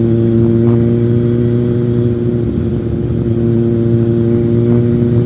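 Kawasaki Z1000 motorcycle ridden fast at night on a road trip, its engine a loud, steady close-up drone with strong harmonics and wind rush, holding constant speed with no voices.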